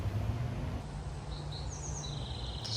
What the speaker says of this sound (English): That is a beautiful bird. I actually don't know which bird that is, but it's beautiful.